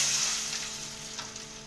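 Salt hits hot, smoking ghee with a close, bright hiss of sizzling that holds steady and slowly fades over a short moment.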